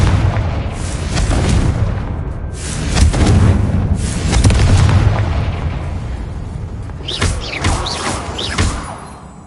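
Confringo fire spell from Hogwarts Legacy bursting into heavy booming explosions, deep rumbling blasts swelling and fading over several seconds with crackling debris and a few sharp whistling tones near the end.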